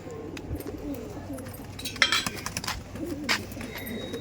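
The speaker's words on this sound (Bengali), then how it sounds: "আপনারা এরকম গিরিবাজ পায়রা চেয়েছিলেন" Giribaz pigeons in a loft, with soft low cooing murmurs running steadily under a few brighter chirps and clinks from the birds nearby.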